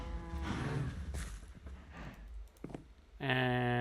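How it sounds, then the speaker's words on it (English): Cows mooing in the Minecraft video game, a short low moo early on and a louder drawn-out moo at the end, with someone talking over the game sounds in between. "less cow noises for sure"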